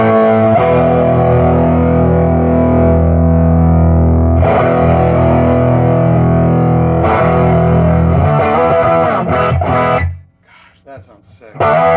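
Electric guitar through a REVV Tilt overdrive pedal rings out with thick, sustained distorted chords, struck a few times, then fades into a brief pause near the end.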